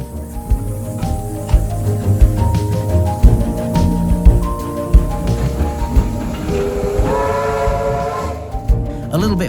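A heritage train on the Churnet Valley Railway rumbles through Leekbrook Junction with clanking wheels and a rising whine from the engine, loud and close throughout.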